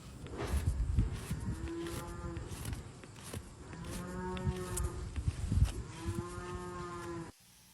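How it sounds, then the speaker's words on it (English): Calves being weaned bawl and moo in the background of a farm where a cow's cracked claw is being trimmed, several long drawn-out calls overlapping at moderate distance, then a sudden cutoff. "you're going to hear all sorts of racket in the background, and those are calves."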